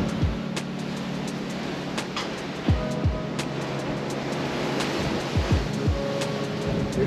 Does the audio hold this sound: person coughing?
no